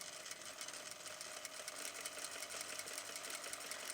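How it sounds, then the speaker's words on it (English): An industrial sewing machine runs steadily, stitching a seam with a 6 mm allowance that begins with a bar tack, its fast even whir continuous and close for the whole span with no talk. "start stitching 6 mm seam allowance"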